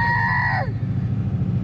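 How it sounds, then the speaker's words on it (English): A chicken gives a loud, close, drawn-out crowing call that tails off, followed by steady low engine rumble and background noise at a motor event. "It's a lovely chicken."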